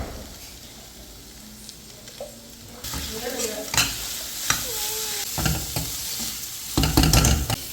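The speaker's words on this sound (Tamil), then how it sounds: "இதை நல்லா விரட்டி நல்லா குக் பண்ணிக்கணும்" Mutton blood fry sizzles in a pan while being stirred, with soft scraping and clattering that grows louder and busier partway through, close and with no talk.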